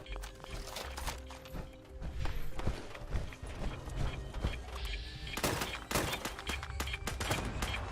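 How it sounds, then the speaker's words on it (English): A weapon is reloaded in the video game Fallout 76, with sharp mechanical clicks and clacks among scattered gunshot-like bangs over a busy game background. "Reloading."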